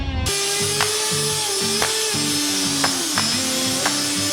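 A power tool roughens the surface of epoxy flooring to prepare it for cementitious grout or concrete. It gives a steady, close, droning whine with a sharp surge roughly every second, and no one speaks.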